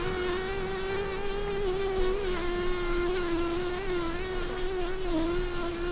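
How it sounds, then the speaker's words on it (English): A bee trapped inside a microphone's furry windshield on a narrowboat buzzes loudly and continuously, a close, steady drone with slight pitch wavering throughout. "Rather awkwardly, I managed to get a bee stuck in my muff."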